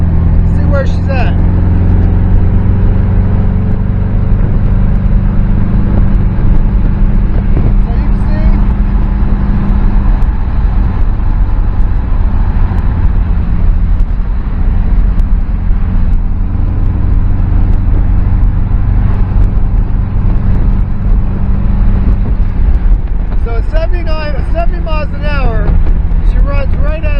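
A C3 Corvette accelerating up to 70 mph: a loud, steady engine drone with rising and falling revs runs throughout, heard from inside the car, with a voice talking over it at times.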